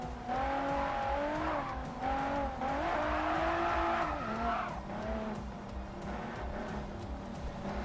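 A car engine revs and drones steadily with shifting pitch while tires skid and squeal, from the Japanese Drift Master driving video game, loud and continuous with no talk.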